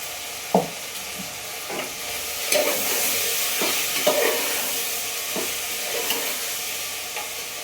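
Vegetables fry in a pan while being stirred, a continuous sizzle broken by repeated clinks and scrapes of a spoon against the vessel, close and clear with no talking.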